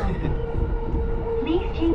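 A Tokyo metro train in a station gives a steady low rumble with rising whine tones and a brief high squeal, while voices murmur underneath.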